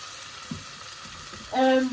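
Garlic and spring onion sizzle in a hot pan with steady, close frying crackle. A brief stir clatters near the start, and a short tonal sound rises over the sizzle at the end.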